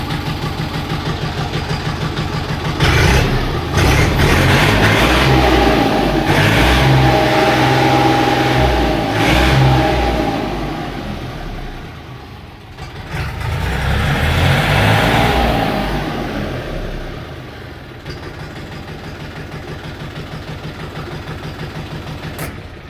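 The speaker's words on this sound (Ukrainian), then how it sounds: "працює двигун" A Kentavr 244 tractor engine idles, then revs up twice in long swells with a pause between, before settling back to a steady low chug.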